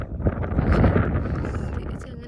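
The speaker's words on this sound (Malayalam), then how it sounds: "കാറ്റുണ്ട് ഗൈസ്" Wind gusting steadily across a rainy hilltop in Idukki, a broad rushing roar buffeting the microphone throughout, with a voice speaking briefly underneath.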